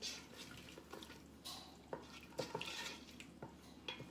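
Spaghetti sauce ingredients being stirred in a pot, giving soft, irregular scrapes and clinks of a utensil against the pot, quiet and close, with no talking.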